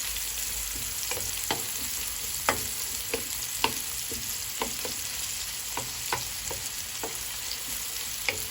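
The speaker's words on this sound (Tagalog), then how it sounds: "Lutuin lang natin na maayos yung ating sibuyas" Plenty of onions frying in a pan for pork kare-kare, a continuous close sizzle broken by regular sharp scrapes and clicks of stirring, with no talking.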